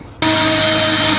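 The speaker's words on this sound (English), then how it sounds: "These are the holes that we got to drill." A power drill starts abruptly and runs loud and steady, boring a hole into an old, reused piece of steel, with a constant whine and no speech over it.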